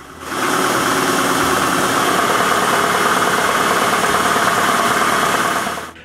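A large workshop machine motor, a newly installed dust collector, starts up and runs at a loud, steady drone, then winds down at the end.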